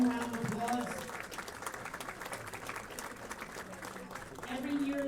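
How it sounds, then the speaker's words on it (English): Applause at a bowling alley awards ceremony rises in a soft wash of clapping from a crowd, fairly faint and mixed with someone speaking into a microphone. "Please give them a round of applause."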